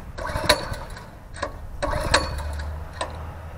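Earthquake Victory rear tine tiller engine being started: a few sharp mechanical rattles and pulls, then a low, steady engine rumble settling in near the end, close and moderately loud.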